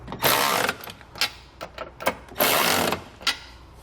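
A ratchet socket wrench tightening trailer hitch nuts on a 2017 Chevrolet, with loud close bursts of ratcheting in several spurts of varying length and short gaps between.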